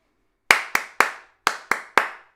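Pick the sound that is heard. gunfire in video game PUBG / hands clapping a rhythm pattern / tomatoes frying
hands clapping a rhythm pattern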